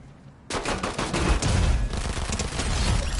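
Rapid bursts of gunfire from a Fortnite match (Chapter 5 Season 4) start abruptly after a quiet half second and continue densely and loudly to the end, with no talking over them.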